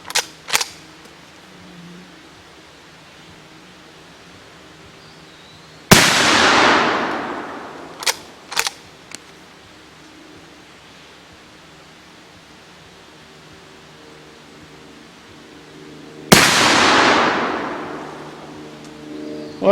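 Shots from an Uberti 1860 Henry rifle aimed at small steel targets: two loud, sharp reports about ten seconds apart, each with a long rolling outdoor echo, plus a few faint distant pops in between.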